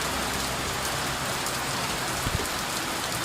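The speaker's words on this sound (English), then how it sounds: "I've probably been in the torrential downpour for" Dense, steady rain pours down, a continuous loud hiss of drops striking a surface, with one faint knock partway through.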